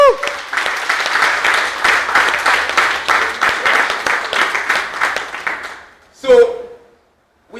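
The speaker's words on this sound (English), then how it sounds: "Let's give that sister a round of applause." A live audience applauds for several seconds, honouring a woman credited with winning over a billion dollars in reparations for African Americans; the dense, steady clapping fades out before a single voice briefly calls out near the end.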